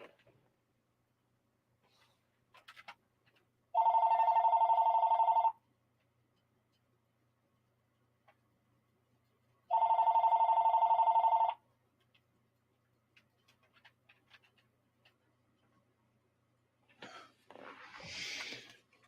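A telephone rings with two separate electronic tone bursts, each lasting about two seconds, several seconds apart in an otherwise quiet room, followed by a faint rustle.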